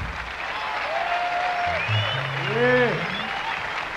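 Audience applause for the drummer Richard Innes during a live blues set at the 1980 Monterey Jazz Festival, steady crowd clapping under a bandleader's talking and a sustained bass note.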